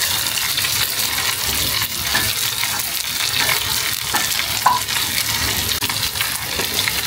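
Fish frying in oil with dried red chillies on an electric stove, a loud continuous crackling sizzle close by with faint stirring, and no speech.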